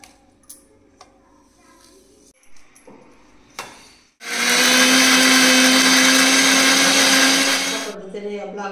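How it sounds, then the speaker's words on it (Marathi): A kitchen mixer grinder blends a green masala paste of chillies, sesame and coriander powder, starting abruptly with a loud, steady whir that runs about four seconds before cutting off, after some quieter clinks and handling sounds. "मी आता मिक्सरवर हे वाटण तयार करते।"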